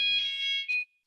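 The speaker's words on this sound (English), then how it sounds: "fire alarm, but it's scheduled." A scheduled fire alarm rings indoors with a loud, shrill electronic tone that holds steady, cuts off briefly, sounds again in a short burst, then stops.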